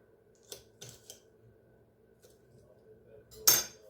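A few sharp knife chops knock on a cutting board, spaced irregularly, followed by a louder final chop in a quiet room.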